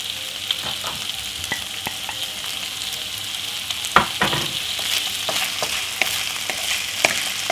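Salmon sizzling and frying in a hot pan for salmon fried rice with vegetables, a steady crackling hiss broken by sharp pops and the clatter of stirring, close and alone without any voices.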